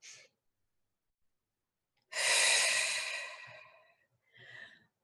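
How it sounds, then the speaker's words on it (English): A single deep breath, a long airy inhale and exhale close to the mic, with a softer breath trailing after a pause in a quiet room. "Take a deep breath."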